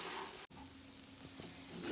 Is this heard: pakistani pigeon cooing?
no